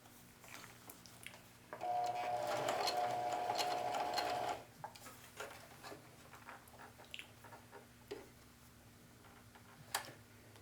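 A sewing machine runs a straight stitch of about 3.5 mm length on a jeans pocket, a close, fast whirring burst lasting a couple of seconds amid quiet workshop handling noises.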